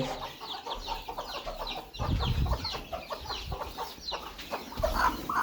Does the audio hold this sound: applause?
no